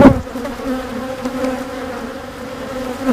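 Honeybees buzz steadily and loudly at an open beehive during a weekly inspection, a dense continuous drone with no voices.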